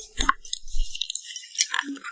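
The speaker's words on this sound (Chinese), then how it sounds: "巧克力嘎嘣嘎嘣嘎嘣脆，好吃" Crunchy chocolate candy being chewed close to the mic, a few sharp crisp bites and crunches separated by short quiet gaps.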